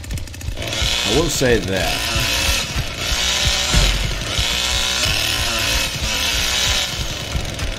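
Bubba's chainsaw in a video game, a loud buzzing whine that rises in pitch in short revs before settling into a steady drone, mixed with game noise and someone talking.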